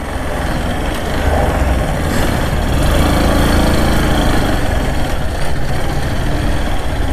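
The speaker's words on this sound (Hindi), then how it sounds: "तो भाई ये कंस्ट्रक्शन चल रहा है" Construction site with a steady, loud engine drone like heavy machinery idling, continuous and unbroken for several seconds, with no voices over it.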